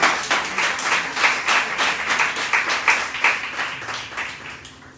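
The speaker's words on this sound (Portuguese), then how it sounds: "Você pode aplaudir ao Senhor com o seu melhor?" Congregation clapping at a Nova Vida church service in Catete, steady rhythmic applause that fills the room for the whole stretch with no voices over it.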